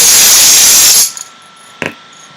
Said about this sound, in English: we'll leave you with a little Tambourine Man and some lavender juniper spray